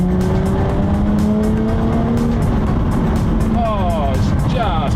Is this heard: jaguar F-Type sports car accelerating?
yes